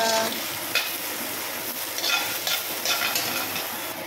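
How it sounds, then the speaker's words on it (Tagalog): Garlic, onion and ginger sautéing in a pan give a steady close sizzle, broken by several soft scrapes and stirs of a spatula against the metal. "gigisa na ako ng bawang sibuyas"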